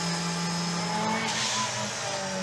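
A Group B rally car with both a supercharger and a turbo runs its engine, a steady loud mechanical roar with sustained tonal drone and no voices.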